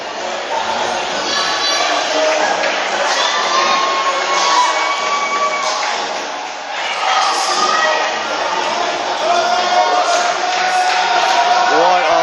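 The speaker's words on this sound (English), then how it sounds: "the crowd is happy" Live event crowd at a pay-per-view show cheering and shouting continuously, a loud dense roar of many voices with whoops rising and falling throughout.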